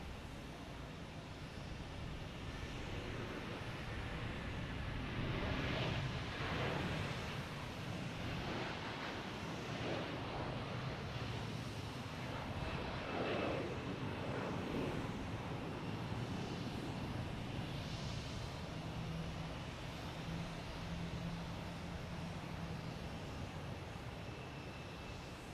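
A Swiss Airlines airliner passes at Boston Logan Airport, its broad engine roar holding steady and loud throughout with a faint swell midway, alone without voices.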